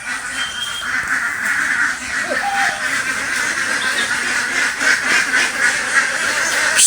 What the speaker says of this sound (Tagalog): Lalo sila, naguluhan pa yung itik.